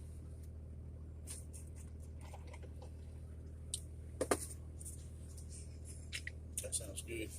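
A storm chasing truck idling with its engine left running, a steady low rumble throughout, with scattered clicks and small knocks over it.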